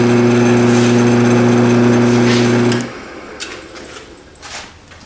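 Motor of a 1942 Delta wood lathe switched on during a rebuild: a loud, steady electric hum drones for almost three seconds, then cuts off abruptly, leaving a quiet room with a few small clicks and knocks.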